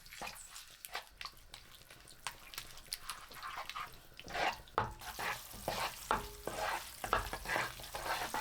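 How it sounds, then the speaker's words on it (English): Miso paste and gochujang chili paste are stirred in a hot pan, with a spatula scraping and clacking over a soft sizzle. The strokes are intermittent, close and fairly quiet. "Stir for 3 minutes to intensify their flavors and get a nice color."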